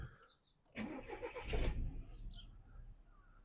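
A Volkswagen Polo Match 1.4 DSG cranks and fires up after a short moment, then settles into a soft, steady idle, heard fairly quietly from nearby with no talking.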